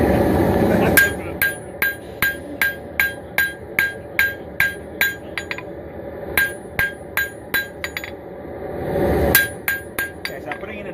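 Hammer blows forging a distal taper into a dagger blade, a steady series of about twenty ringing metallic strikes on the anvil, with a pause midway and a roaring forge underneath.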